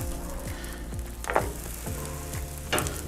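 Bread rolls set into hot sausage fat for Argentine choripan, sizzling and spitting close up with a few scraping stirs and louder crackles over a steady fry.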